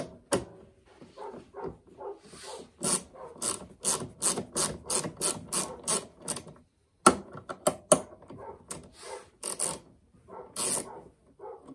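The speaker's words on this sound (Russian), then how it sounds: "И теперь нам надо вот эту гаечку открутить." Socket wrench unscrewing a nut on a Makita DLM431 lawn mower: a close series of sharp ratcheting clicks in rapid bursts, briefly pausing and resuming, fairly quiet, with no talk.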